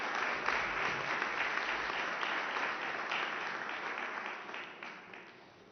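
Applause at a press conference marks the signing of a loan agreement between the Polish Development Bank and Credo Bank, steady clapping from the room that gradually fades toward the end.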